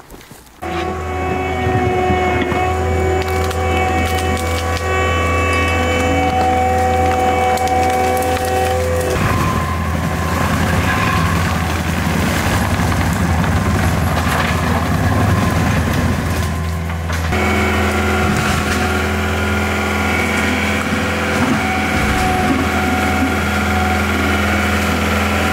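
A new black 2022 CAT 299D3 compact track loader engine runs loud and steady up close, with a constant low drone and shifting mechanical whine as the load and revs change partway through.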